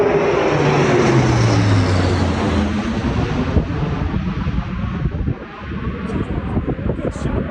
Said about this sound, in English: Obviously some kind of military plane literally right overhead.